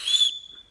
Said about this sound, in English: It also doubles as a whistle